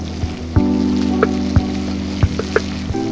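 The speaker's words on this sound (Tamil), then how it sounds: "நல்லா ஃப்ரை பண்ணுங்க." Green chilies frying in a pan for mushroom egg pulao give a steady close sizzle with scattered sharp pops and crackles, no voices.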